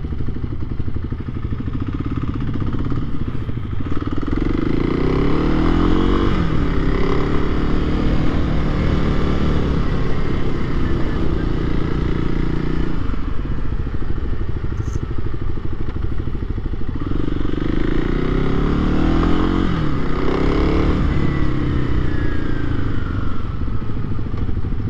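A 2023 Kawasaki KLX300SM supermoto motorcycle rides steadily over a bumpy road section, its engine droning loudly and continuously close by, with a brief dip in the middle before the revs build again.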